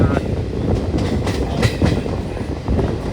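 A Garib Rath Express train between Hyderabad and Bengaluru rumbles loudly along the tracks with rhythmic clacking of wheels over rail joints, close and continuous.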